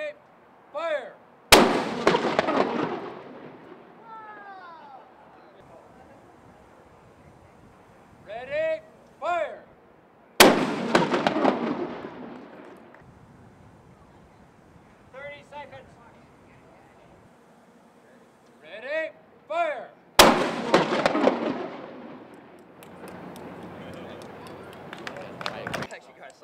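The deck gun of the submarine USS Cod fires three booming shots about ten seconds apart, each a sharp, loud blast that rings out outdoors, with voices talking between the shots.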